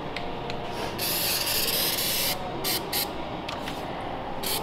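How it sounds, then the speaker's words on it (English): Undercoat coating sprayed onto a truck frame during a Lil Herc 2.0 install on a Roush F350, a close hissing spray in several bursts, one long stretch and then shorter blasts, over steady shop noise. "applying some undercoat to the frame"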